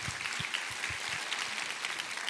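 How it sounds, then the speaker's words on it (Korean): A church congregation at a Sunday evangelism service applauds: a continuous, fairly soft wash of many hands clapping in a large room, with low murmurs beneath. "우리 하나님께 감사와 영광을 박수로 올려드리겠습니다."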